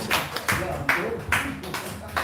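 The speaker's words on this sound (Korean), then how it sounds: "박수." A church congregation claps in a slow, regular rhythm, about one sharp clap every half second, while a person keeps talking over it.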